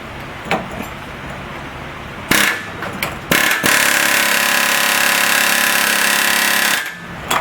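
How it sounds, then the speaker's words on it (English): A long-barrel pneumatic air hammer fires in two bursts while removing an upper control arm from a 1971 Dodge Charger, a short rattle followed by a long sustained hammering of several seconds, loud and close. "Air hammer, long barrel, with the hammer style for the"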